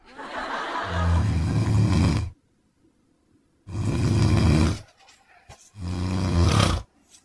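Three loud, rasping snores, each a long rough drone separated by pauses of near silence, close and heavy.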